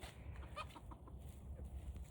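Turken chickens cluck softly in the cold outdoors, a few faint, short clucks scattered over low background noise.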